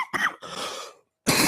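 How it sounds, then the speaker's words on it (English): A person coughs several times in quick bursts, close and loud, with short silent gaps between the hacking fits. "It's that damn cough."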